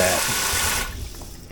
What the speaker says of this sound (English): Ooh, and running water.